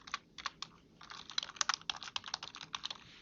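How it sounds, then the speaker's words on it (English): Quick bursts of keystrokes clatter on a computer keyboard as a header is typed into a word-processor table, close and crisp with short pauses between runs. "Then I'm going to type 30-year average as our header"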